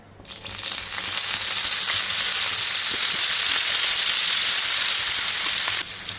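Vegetable pieces frying in oil in a kadai, a steady close broadband sizzle that swells in within the first second and holds evenly loud to the end, with no voices.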